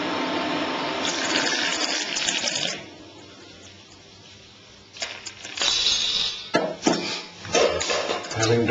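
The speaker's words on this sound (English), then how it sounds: "you have to pour it from a height." Boiled milk poured from a height for South Indian coffee gives a steady, loud splashing stream for nearly three seconds, then quieter trickling, followed by a run of sharper, irregular splashes and clinks with no voices.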